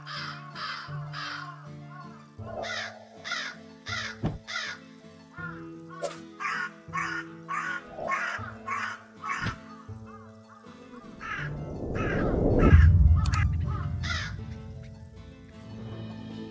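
Crows caw in repeated harsh bursts, several calls in quick succession with short gaps, fairly close and loud, followed by a louder rushing, rumbling noise toward the end.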